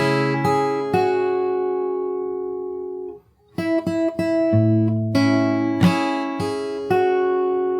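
A fingerstyle acoustic guitar phrase of plucked notes and ringing chords ends with an added closing note, with a brief pause midway, played close and alone.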